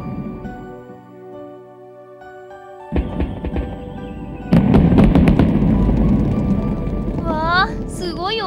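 A large Japanese three-shaku fireworks shell bursts with a loud boom and then a dense crackling spread, following an earlier burst, over sustained background music with chirping tones near the end.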